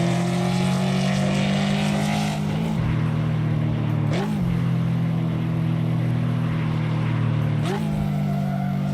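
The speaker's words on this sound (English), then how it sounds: "I love the exhaust sound on it." A Ford Mustang in Assetto Corsa drones with a deep, steady exhaust note, the pitch dipping and snapping back several times as the engine shifts or lifts, loud and close throughout.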